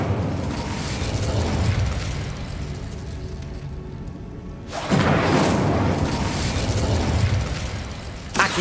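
A fire spell cast in Hogwarts Legacy on Xbox Series S bursts into a loud, roaring whoosh, dies down briefly, then flares again with a second sustained fiery rush and a sharp pop at the end.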